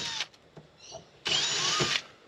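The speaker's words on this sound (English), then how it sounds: "So I'm gonna go ahead and drill these now." A power drill bores into the back wall of a caravan, a short opening whir followed by a loud, sustained drilling burst of about three quarters of a second, close to the mic.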